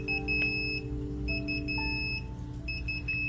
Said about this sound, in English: So we're above the 55, so it's alarming, obviously.